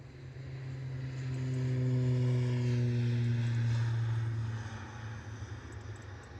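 An Aer Lingus ATR turboprop aircraft at Edinburgh Airport passes at a distance, its steady propeller drone swelling to a peak and then fading away, with no talk.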